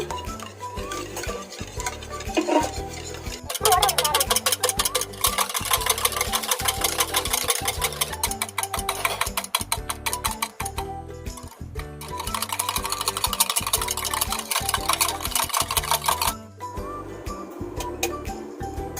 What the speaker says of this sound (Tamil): இப்போ இதை நல்லா விஸ்க் வச்சு அடிச்சு கொடுத்துருங்க